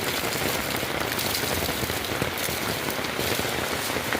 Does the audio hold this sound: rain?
yes